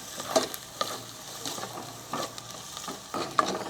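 Garlic, onion and ginger sautéing in a pan, a soft steady sizzle broken by repeated scraping stirs and small clinks, close and moderately quiet.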